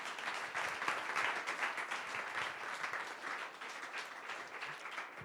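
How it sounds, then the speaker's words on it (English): Steady round of applause from the audience at a cryptography meetup, moderately distant and continuous, a dense wash of clapping with no talk over it. "Let's give them another round of applause"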